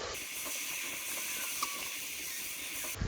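Rice and sauce mixed with pomegranate molasses and ketchup sizzle in a hot pan, a steady broad hiss close by with faint scraping from stirring.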